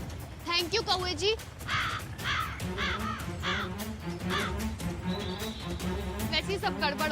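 A crow caws repeatedly in loud, harsh bursts close by, the calls running over background music and ambient noise.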